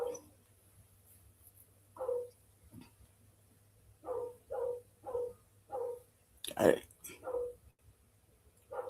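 Dogs bark in a yard as a delivery is made, short separate barks spaced across the clip at moderate distance, with a person speaking briefly among them.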